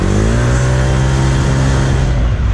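Honda PCX 150 scooter with reworked clutch, new variator bowl and aftermarket exhaust accelerating hard, a loud steady engine drone rising in pitch throughout, close to the rider with no talking.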